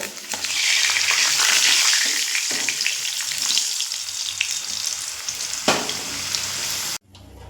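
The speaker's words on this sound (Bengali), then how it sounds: "দেখুন আলু আমার ভাজা হয়ে গেছে" Half-boiled potato pieces fry in oil in a pan, giving a loud, dense, continuous sizzle with faint stirring scrapes; the crackle stays strong throughout, then cuts off abruptly near the end.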